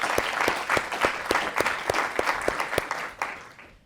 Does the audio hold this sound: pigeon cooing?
no